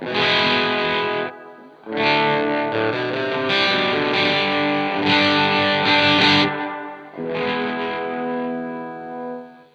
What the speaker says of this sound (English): I'm gonna turn on my Seraphim Mono Shimmer from Neunaba, and this is what that sounds like